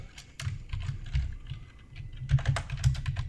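Rapid typing on a computer keyboard while writing comic-strip text in Photoshop, a steady run of close, crisp key clicks with brief pauses and no talking.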